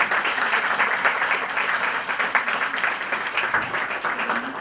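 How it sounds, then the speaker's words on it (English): Steady applause from a large crowd at a gala dinner, many hands clapping continuously at an even level for several seconds, with no pause. "Give yourselves a round of applause and a welcome."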